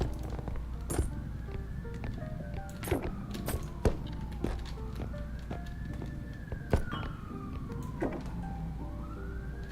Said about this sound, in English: don't mind the fucking sirens in my background